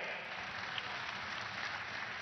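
An audience at a PTI political convention applauds during a speech, a steady, dense wash of clapping that sounds fairly distant and constant across the crowd.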